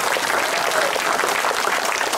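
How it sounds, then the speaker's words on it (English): Sustained, dense applause from an outdoor audience at the groundbreaking ceremony for the St Paul Changsha Friendship Garden fills the whole moment, steady and loud without a break. "Please give him another round of applause."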